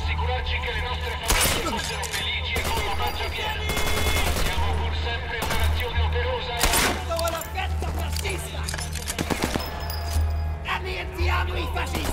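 Gunfire in the Sniper Elite 4 video game, a long range pistol shot among several sharp cracking reports spread across the clip, heard over a constant low game drone and ambience.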